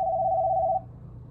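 A telephone rings with a single steady electronic tone that cuts off abruptly, heard fairly close in an otherwise quiet room over low background hum.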